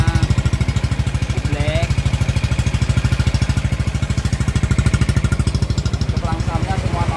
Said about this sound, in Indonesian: Suaranya kalau untuk mesin agak melitik dikit tapi halus ya